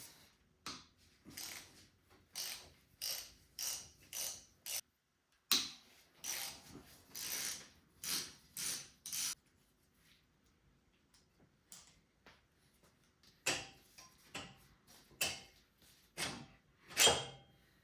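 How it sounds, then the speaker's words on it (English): Bolts are loosened with a ratchet on the locked-up engine of an Allis Chalmers CA tractor, giving quiet bursts of rapid clicking that come in short repeated strokes with pauses between, close by and fairly faint, with no talk. "loosening up these top bolts here and trying to pull this thing apart"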